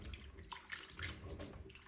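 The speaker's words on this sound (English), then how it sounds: "Now that my potatoes are in the water, I just swish them around, and that's washing them off." Potatoes swished around by hand in a basin of water while being washed for potato salad, giving continuous close sloshing and splashing with soft watery surges throughout.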